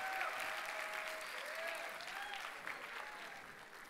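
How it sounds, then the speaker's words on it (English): An audience at a youth day event applauds to welcome a bishop to speak, a dense sustained clapping that fades slightly toward the end, with faint voices underneath. "Now please help me welcome Bishop Caggiano."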